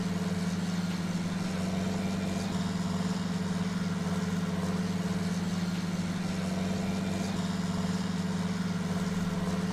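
A John Deere 6030 tractor engine in Farming Simulator 19 drones steadily while pulling a plough on a steep field, a constant low hum at an even pitch with no voices.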